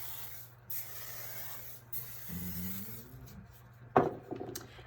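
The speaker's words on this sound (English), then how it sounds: "you're going to take your hairspray" Hairspray is sprayed onto hair while setting a vintage everyday hairstyle. Quiet hissing bursts run for several seconds at close range, with a soft rustle and a brief tap near the end.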